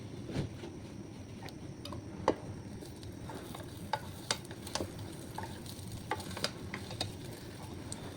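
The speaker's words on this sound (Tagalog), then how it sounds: "Ipiprito ko lang siya." Food fries quietly in a pan, a soft steady crackle broken by scattered sharp ticks and pops, with occasional utensil taps, close but low in level.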